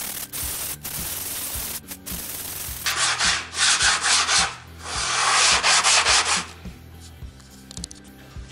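Defective plaster wall being hand-sanded with sandpaper on a special holder in an awkward spot behind heating pipes: repeated rhythmic back-and-forth rubbing strokes, close and fairly loud, in bursts with short pauses.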